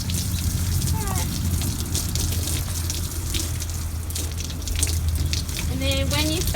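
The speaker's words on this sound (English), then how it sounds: "when you first start hosing, try to avoid the head area at the start, just to get them used to the water" Water from a hose sprays steadily onto a horse during washing, a continuous hiss with close splashing and voices talking over it.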